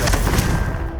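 A heavy, booming spell blast from Hogwarts Legacy, a fiery explosive burst that fills the short moment loudly before fading out.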